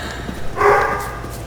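A pet dog barks once, a single loud, echoing bark in the middle that rings out briefly in an otherwise quiet space, with no talking.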